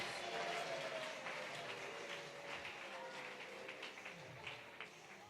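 Faint, steady applause from a congregation at a church gathering, a dense wash of clapping that holds for several seconds and fades slightly toward the end.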